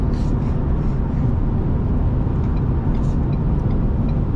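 A 2020 Ford Fusion Titanium AWD rolls over small road transitions, a loud, steady road and tire rumble inside the cabin with a few brief higher bumps and rattles.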